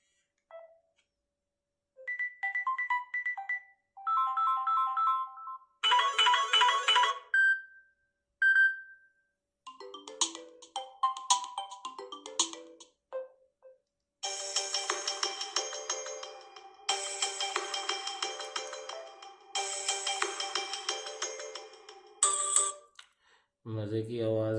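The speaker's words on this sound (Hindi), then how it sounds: "सबसे पहले है जी रिंग टोन्स" Ringtones from a Samsung A51 phone play in turn, a series of short melodic chimes and tonal jingles separated by pauses, some sparse and bell-like, others dense and loud, close and clear.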